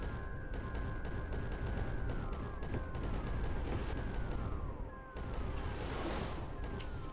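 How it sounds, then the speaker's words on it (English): Mortars fire in the strategy video game Creeper World 4 as a dense, continuous barrage of rapid thumping shots with repeated descending whistles, loud and layered throughout, with no talking. "get a couple mortars in over here to shoot down on there"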